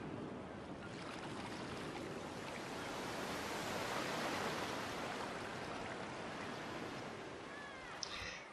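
Ocean water laps and surges around a swimmer at a beach in GTA V, a steady broadband wash of surf that swells and recedes gently and is heard alone, with one small splash near the end.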